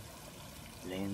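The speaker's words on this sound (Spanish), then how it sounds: "así como en el sonido del agua que va cayendo" Soft flowing and trickling water in a calm outdoor setting, faint and continuous, growing slightly fuller toward the end as a low voice begins to speak over it.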